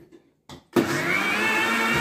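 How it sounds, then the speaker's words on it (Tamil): A kitchen mixer grinder starts up to churn thick cream into homemade butter. A click and a short burst come first, then the motor kicks in with a loud, steady whirring grind that runs on continuously. "இந்த மிக்ஸி ஆன் ஆயிடுச்சு."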